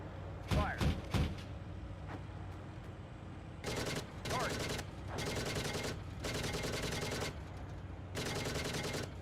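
A combat team opens fire in Kandahar: a few sharp single shots, then a string of loud sustained automatic bursts with brief pauses between them.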